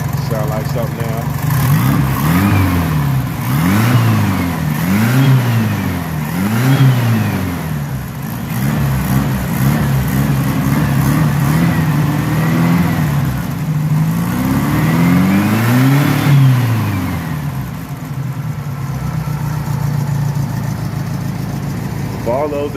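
A car engine revs repeatedly in rising and falling sweeps over a steady idle, close and loud, with brief pauses between the revs.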